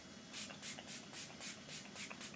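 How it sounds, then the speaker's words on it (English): An e.l.f. makeup setting spray mists in a quick series of about eight soft, even hissing pumps, faint and close, with no voices. "I do want to spray it on for you on video so you can see how it mists."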